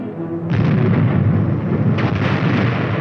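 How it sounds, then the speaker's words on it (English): Air bursts from a battalion of 105mm howitzers on a 1950s US Army firing range roar as heavy, rumbling blasts. A dense, loud barrage swells in after half a second, with a further burst near two seconds, on old film sound. "The air bursts fired by a battalion of 105mm howitzers present a lively show."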